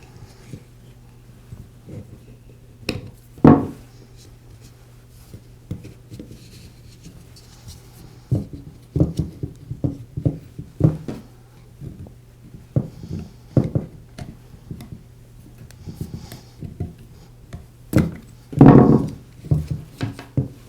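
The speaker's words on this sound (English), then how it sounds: "I'll use a screwdriver to get it started, and then I'll just pry it away from the housing" A screwdriver pries and scrapes at an O-ring on a Porter Cable sander housing, giving sporadic close scratching and clicking bursts with louder knocks near the middle and end, amid quiet pauses.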